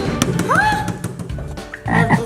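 Croaking sounds like a frog, up close and fairly loud: a rising, drawn-out call followed by a rougher burst near the end.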